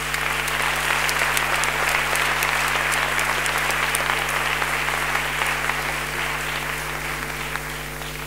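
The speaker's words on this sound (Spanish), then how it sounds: "desde aquí el máximo aplauso para todos los que hacéis posible" Audience applause at a film festival presentation, a dense, steady wash of clapping from a large crowd that keeps going the whole time and tapers only slightly near the end.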